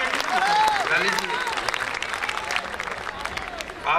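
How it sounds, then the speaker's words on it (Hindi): The crowd at a Hindi kavi sammelan poetry gathering gives a poet sustained, energetic applause, with scattered whistles and voices mixed into the clapping. "तालियां एक बार जरा जोरदार हो जाए पॉपुलर जी के लिए"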